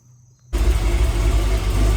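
A buggy's engine rumbles at a steady, loud idle close by in a garage, starting abruptly after a moment of near silence and holding its low throb throughout.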